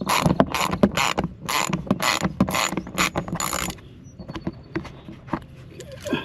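Bolts being removed from under the bumper of a 2021 Toyota RAV4, close rapid ratcheting clicks in fast bursts for several seconds, then a few sparser metallic clicks and taps.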